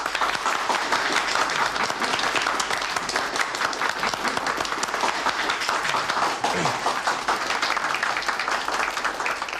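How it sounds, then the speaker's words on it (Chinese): Sustained applause from people gathered at a meeting, dense steady clapping close by that carries on for nearly ten seconds. "鼓掌。"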